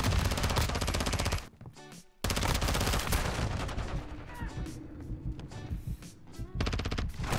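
Rapid automatic gunfire from a first-person shooter video game, dense bursts of shots filling most of the stretch with a brief lull, then more scattered firing and clattering effects, loud and close.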